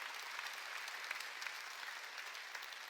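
A church congregation applauds during a sermon, with a dense, even patter of many hands clapping that sounds somewhat distant and quiet and holds steady for a few seconds.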